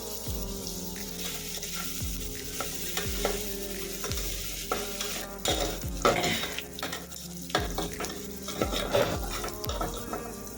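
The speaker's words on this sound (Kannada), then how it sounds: "ಈರುಳ್ಳಿ ಚೆನ್ನಾಗಿ ಗೋಲ್ಡನ್ ಬ್ರೌನ್ ಆಗುವವರೆಗೂ ಚೆನ್ನಾಗಿ ಎಣ್ಣೆಯಲ್ಲಿ ಫ್ರೈ ಮಾಡ್ಕೋಬೇಕಾಗುತ್ತೆ" Onions frying in oil until golden brown, cooked for chicken biryani, with a steady sizzle broken by repeated scraping stirs of a utensil against the pan, each stroke closing with a low clatter. No one speaks.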